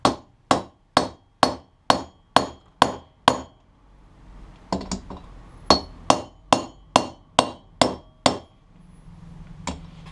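Sharp metallic hammer strikes knock a wheel bearing into a Honda CB750 wheel, ringing out in a steady series, about a dozen blows in two bursts separated by a brief pause, close and loud.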